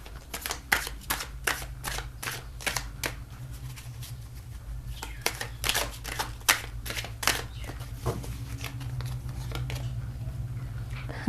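Tarot cards being shuffled and drawn by hand, a run of crisp, close snaps and riffles coming in quick irregular bursts over a low steady hum.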